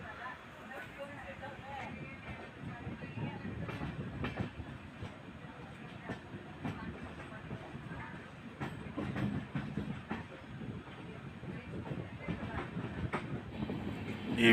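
Mysuru-Shirdi Express train rolling on the rails near Chitradurga, a steady rumbling wheel-and-track clatter with a continuous noise bed throughout, sounding fairly close.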